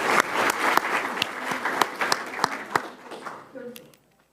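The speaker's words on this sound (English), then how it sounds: "Let's give her another round of applause." An audience at a school board meeting claps steadily for a few seconds in a dense, mid-sized round of applause that fades out, followed by brief quiet.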